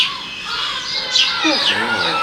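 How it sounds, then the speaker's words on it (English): Seagulls calling outdoors, several sharp rising and falling cries overlapping close by, with a voice talking underneath. "I'm not sure if you can hear any of this with all the seagulls and dogs"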